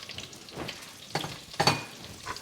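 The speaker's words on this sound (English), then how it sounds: "So now in this hot oil, I'm going to add in the onions, sliced up onions." Sliced onions fry in hot oil for a coq au vin chicken stew, giving a soft crackling sizzle with a few louder pops and spatter bursts heard up close.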